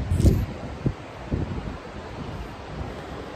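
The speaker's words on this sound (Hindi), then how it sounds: "तुम देख रहे हो यार कितनी अच्छी हवा चल रही है" Wind blows outdoors in gusty rushes, with a stronger burst at the start and softer surges after, buffeting the microphone.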